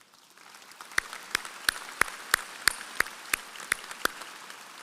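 Slow, evenly spaced claps ring out at a San Jacinto College commencement ceremony, a few crisp hand claps per second over a soft background hush, without talking.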